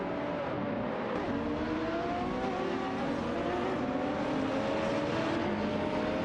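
Race cars including a Ferrari F430 GTC in a racing video game, engines droning and rising in pitch with overlapping whines of several cars at steady moderate volume.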